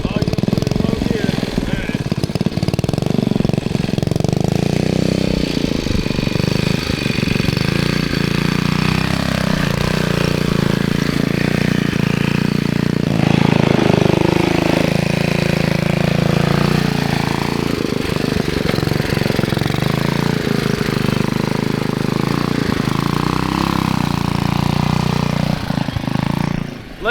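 A neglected 1971 ROKON two-wheel-drive motorbike climbs a hill in low gear, its small engine droning steadily and loudly throughout with shifting load, while people talk over it.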